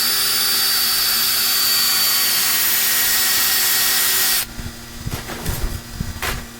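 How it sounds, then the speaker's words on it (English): A small power drill with a fine bit whines loudly and steadily as it bores into a coconut shell held against a wood block, then cuts off abruptly, followed by a few scraping and handling knocks. "When drilling the holes in the coconut"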